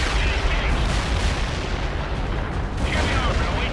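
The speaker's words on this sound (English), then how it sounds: "Anti-tank strike is inbound." Anti-tank strike explosions in the World in Conflict video game roll as a continuous, dense barrage of booming blasts, loud and steady, with rumbling bursts swelling near the end.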